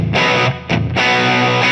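An electric guitar plays through the FM3 ODS-100 clean amp model with medium plate reverb. Loud, sustained chords ring out with a brief break, then swell again with a lush, spacious tail.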